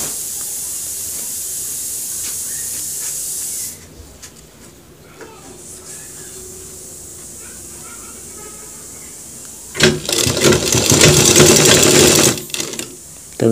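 A sewing machine stitches over a folded trouser cross pocket, running in two steady bursts near the start and end with a loud, close, rattling whir, quieter handling between them.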